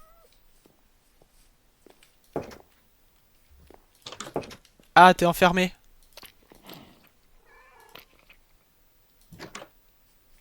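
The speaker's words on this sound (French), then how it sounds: "Oh, un chat!" Cats in the video game Minecraft give a few short meows between quiet stretches, one louder, clearer meow standing out near the middle, with brief speech also heard.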